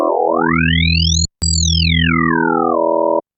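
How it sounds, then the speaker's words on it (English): A synthesizer tone from the Viper synth's grain oscillator sweeps upward in pitch, cuts out briefly with a click, then glides back down and settles on a steady buzzy note. "Now that's some serious grain oscillation going on in here."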